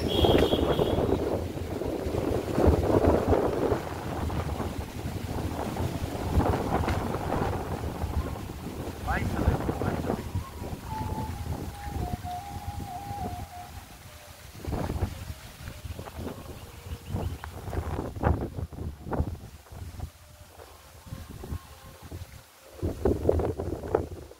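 Strong wind roars and buffets steadily outdoors under a clear sky, with rough gusts surging and easing throughout.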